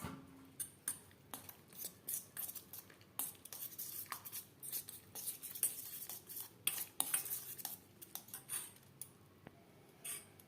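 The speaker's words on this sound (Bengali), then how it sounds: "জল অ্যাড করে একটা ব্যাটার আমি তৈরি করে নেব" Thick batter for paneer pasinda being mixed with water in a bowl, quiet irregular scraping and clinking of a utensil against the dish in short uneven strokes, close and soft with no talking.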